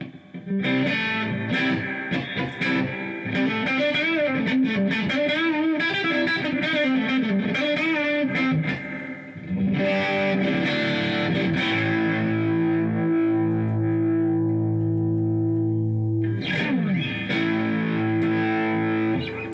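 A distorted electric guitar through a Boss FDR-1 Fender '65 Deluxe Reverb pedal plays riffs and sustained chords drenched in reverb, the notes ringing out and trailing off between phrases.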